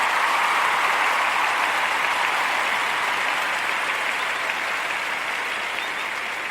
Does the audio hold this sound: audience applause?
yes